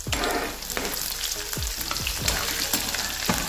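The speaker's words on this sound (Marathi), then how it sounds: "लसूण लाल झाला की त्यात हिरवी मिरची घालायची" Garlic and green chillies sizzle and crackle in hot oil, with bursts of stirring scrapes against the pan, close and steady throughout.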